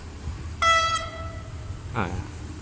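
A GEA 4552 diesel locomotive hauling Thai special express train 31 sounds a bright, stacked horn blast of about half a second. A fainter, lower toot follows over steady low engine rumble.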